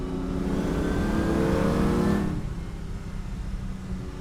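A 1950 Ferrari 166MM Le Mans Berlinetta engine revs up to a loud, rising roar, then drops off after about two seconds, settling into a lower, rougher idle.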